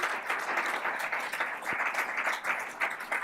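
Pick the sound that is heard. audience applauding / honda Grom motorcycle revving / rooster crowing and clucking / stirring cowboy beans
audience applauding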